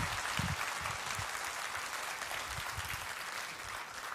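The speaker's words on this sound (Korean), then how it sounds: "여러분 뜨거운 박수로 맞아주시기 바랍니다" A church congregation at a Sunday worship service claps and applauds to welcome guest worship leaders, a steady, dense wash of hands filling the room throughout, with a few louder low thumps near the start.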